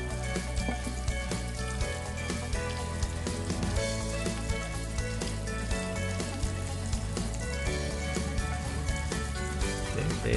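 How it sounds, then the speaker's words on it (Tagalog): Galunggong fish frying in hot oil, a dense, continuous crackling sizzle with scattered pops, steady and moderately loud throughout. "hindi tatalsik yung mantika pag nagpiprito tayo"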